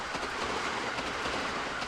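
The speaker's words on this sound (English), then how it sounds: "Across the way, a train rumbles by." A train rumbles past across the way in a city scene from the visual novel Steins;Gate, giving a steady, even wash of rolling noise with faint clacking and no speech.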